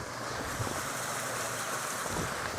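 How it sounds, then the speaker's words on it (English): Flood water rushing on the grounds of an old asylum site, a steady broadband roar like surf or wind, fairly faint and continuous with no talking. "Well, I could hear water."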